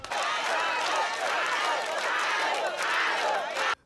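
A village crowd cheers and applauds loudly, a dense roar of voices and clapping that holds steady before cutting off abruptly near the end.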